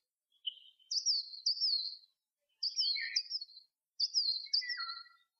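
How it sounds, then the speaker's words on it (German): Tits chirping in a forest: several short bursts of high, bright twittering calls in three clusters separated by brief silences, clear and fairly close with nothing else around. "Meisen sind wie Bälle durch die Luft geschwirrt."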